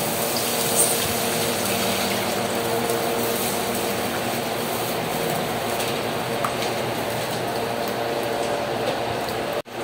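Broth being poured into a pot of tilapia sinigang sa miso, a steady rushing gush of liquid that runs continuously for several seconds and cuts off abruptly at the end.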